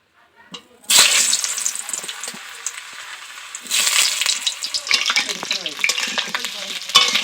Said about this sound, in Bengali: আমার তেলটা গরম হয়ে গেছে, এখন আলুগুলোকে দিয়ে দেবো।